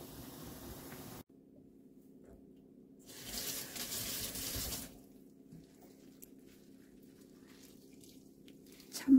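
Cold tap water runs over chwinamul greens from Ulleungdo in a sink, a steady broadband splash rising for a few seconds in the middle before easing to a quieter trickle; no voices.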